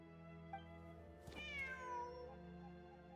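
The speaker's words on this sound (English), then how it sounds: "Wait, there it is! The cat!" A cat meows in the video game Genshin Impact, one drawn-out, rising-then-falling meow near the middle over steady ambient game music, with a faint shorter sound just before it and no talking.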